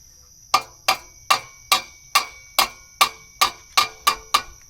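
Hammer blows driving nails into a farm fence, about eleven sharp, evenly spaced strikes close by, each ringing briefly with a metallic tone, and no talking.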